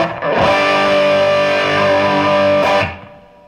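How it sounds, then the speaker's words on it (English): An electric guitar plays through a 3 Monkeys tube amplifier, a loud, sustained distorted chord with a rock-and-roll style reverb rather than a washy surf sound, ringing for a few seconds before a brief restrike and a fading tail. "the reverb, it's not the big washy surf reverb. It's definitely more of a rock and roll style"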